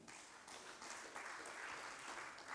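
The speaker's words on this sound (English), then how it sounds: "A round of applause for him" Audience applause at a tax awareness workshop as a panelist joins the panel, a steady, fairly faint wash of clapping from a room of people, without a break.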